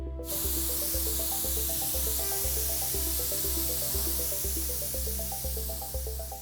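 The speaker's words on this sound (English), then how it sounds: "then I spray on some matte varnish to finish it off." An aerosol can of matte varnish sprays onto cyberpunk miniature terrain with a continuous hiss that starts abruptly and runs throughout under rhythmic background music with a steady bass pulse.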